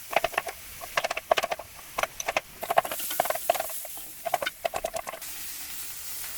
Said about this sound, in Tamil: இப்போ வந்து இந்த வெங்காயம், பச்சை மிளகாய், கருவேப்பிலை இதை பரட்டி விட்டு மீடியமாக வச்சிடலாம்